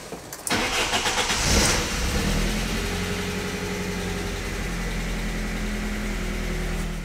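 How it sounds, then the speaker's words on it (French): A BMW E30 316i, a barn-find car, cranks briefly and fires up, then settles into a steady, fairly loud idle that runs on with no talking. "ça démarre. Ça démarre beaucoup mieux."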